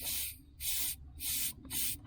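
Freon hisses from the leaking AC system of a 1968 Chevelle Nomad in four short, close bursts of bright, even spray, with quiet gaps in between.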